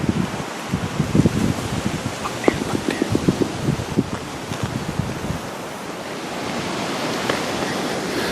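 Strong wind gusts roar and rustle across an open outdoor spot at night during deer calling, a constant broadband blowing with brief sharper bursts.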